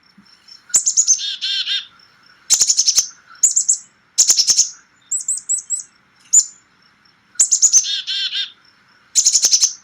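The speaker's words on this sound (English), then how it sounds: "So that's the black-capped chickadee, a very perky chickadee-dee-dee sound." Bright, perky chickadee calls repeat in short bursts with brief pauses, clear and close, with quick buzzy dee-dee-dee notes and no voices.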